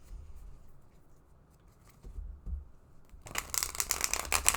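Quiet rustling and soft taps, then a loud, dense burst of tarot cards being shuffled close by in the final seconds.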